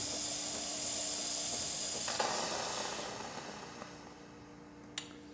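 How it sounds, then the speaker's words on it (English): A loud, steady steam hiss blasts close up from a Breville espresso machine steam wand, gradually easing in strength, with a couple of small clicks near the end. "Nice strong steam."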